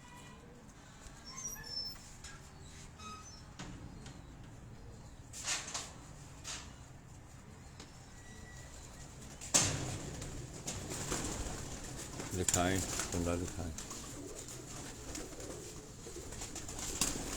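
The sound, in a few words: performer pigeons cooing on a rooftop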